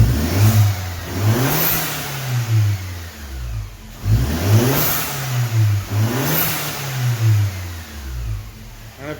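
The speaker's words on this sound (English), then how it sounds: "I'm gonna start my car and let you guys hear it." Mercedes W204 C250 with an Armytrix downpipe revving repeatedly, three loud rising-and-falling blips over a deep idle, close up with no talking.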